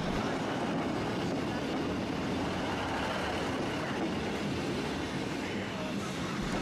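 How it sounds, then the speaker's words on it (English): A loud, continuous rumbling roar of a train rolling past nearby at a railway crossing, broad and steady without pause from start to finish. "after this particular train passed we discovered another"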